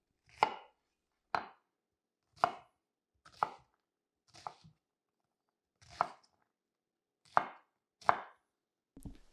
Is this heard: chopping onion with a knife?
yes